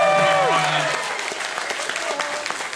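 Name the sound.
audience applause and cheering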